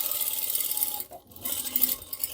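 A sewing machine with a quick-change shank and a 1/4 inch guide presser foot stitching fabric for a tote bag, a steady fast mechanical whir with a short pause in the middle.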